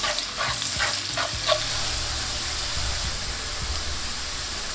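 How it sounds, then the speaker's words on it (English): Onions and garlic sauté in hot butter and oil with a steady, close sizzle, and a few scraping stirs come early on. "When nice and hot, throw in your onions and the garlic. Give that a mix and you want to lightly saute this."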